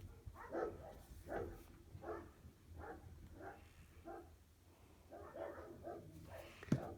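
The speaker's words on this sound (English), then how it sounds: "My dogs are going crazy." Several dogs bark off in the distance in a steady rhythm of faint repeated woofs over soft room noise, with a single sharp click near the end.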